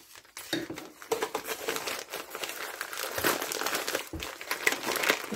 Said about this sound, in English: I'll open the next package